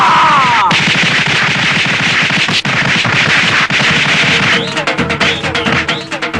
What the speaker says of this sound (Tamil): பொணத்துக்கு வெடி வச்சிருக்காங்க